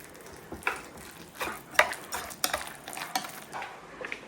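A utensil scrapes and clinks against a bowl in repeated strokes, mixing a thick eggplant and spinach fritter batter at close range with a few sharper taps.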